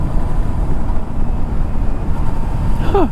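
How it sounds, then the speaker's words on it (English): Motorcycle riding noise captured by a GoPro 9 mounted on a Shoei GT Air helmet, a loud steady roar of wind and engine rumble throughout with no pause. "so you can hear what the microphone sounds like when I'm actually riding"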